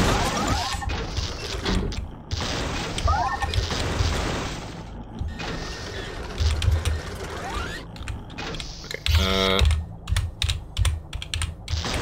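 Keyboard typing in a WALL-E video game, with bursts of clacky keystrokes mixed among mechanical creaks, whirring gears and clunks, fairly loud and busy.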